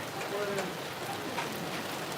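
Steady rain falls outdoors on an autumn day in Akita, Japan, a soft, even patter with occasional brief drips, fairly faint and continuous throughout.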